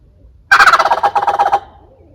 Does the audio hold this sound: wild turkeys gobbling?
yes